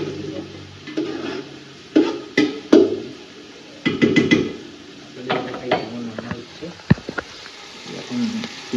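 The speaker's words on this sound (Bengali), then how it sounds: "এখন পেঁয়াজ ভাজা হচ্ছে" Onions frying in a pan for a home-cooked chicken dish, a light steady sizzle with intermittent stirring scrapes and utensil clinks against the pan, close up, under occasional talk.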